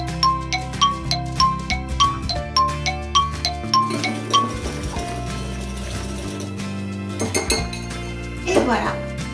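Utensil clinking rhythmically against a bowl while French toast batter with cacao is mixed, steady repeated taps and scrapes at close range, with background music and some talk.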